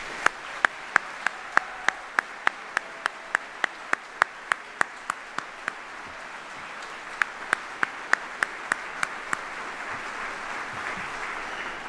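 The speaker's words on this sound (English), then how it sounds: "So please join me in a round of applause for all the families here today." A round of applause for families at an Army general officer retirement ceremony, heard as a steady wash of crowd clapping with sharp, regularly spaced clicks running through it, sustained throughout.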